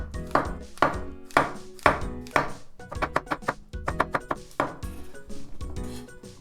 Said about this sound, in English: And the mushroom, I'm gonna cut the bottom part of the stem a bit off. And then cut them in thin slices.